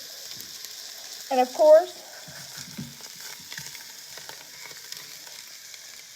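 Sausage frying in a pan gives a soft, steady sizzle, close and quiet, while a voice speaks briefly near the start.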